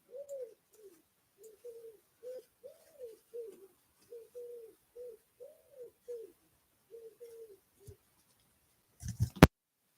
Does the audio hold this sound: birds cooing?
yes